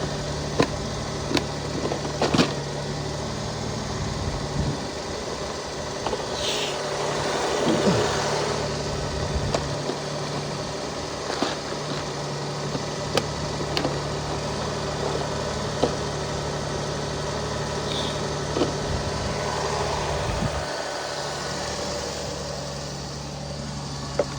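A Toyota Sienna engine idles steadily for the whole stretch with a fresh ignition coil fitted, a smooth low hum while it warms up, and faint clicks and knocks drift in now and then.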